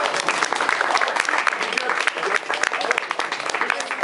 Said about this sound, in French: Vous pouvez applaudir quand même.